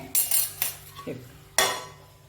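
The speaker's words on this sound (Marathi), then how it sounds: "ह्याला आपण झाकण घालून ठेवूया" A metal lid clatters onto a cooking pot with several sharp clinks and knocks, then one last loud clang as it settles, all close by with no talking.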